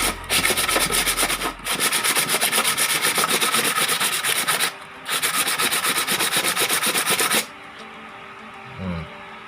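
Steady, vigorous rubbing of 1,000-grit sandpaper on a motorcycle part in long rasping stretches with two brief pauses, then the scraping stops and only faint background noise remains.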